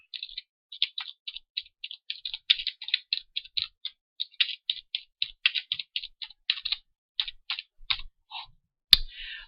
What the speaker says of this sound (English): delete the original title and type in the new title.